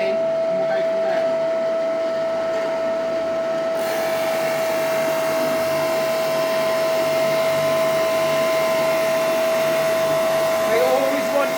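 A Lumberjack drum sander runs with a steady loud whine and broadband hum, its motor holding a constant tone throughout with the feed noise growing denser partway in.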